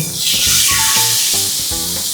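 Pork sizzling in a hot dry pan with no oil, a loud continuous hiss and crackle of frying meat filling the whole moment without speech.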